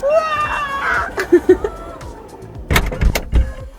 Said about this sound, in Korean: 네, 문 살짝 닫게요.